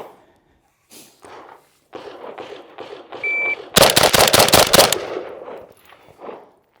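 Galil ARM 392-S rifle firing a rapid burst of loud, close gunshots midway through, with a few spoken phrases before and after.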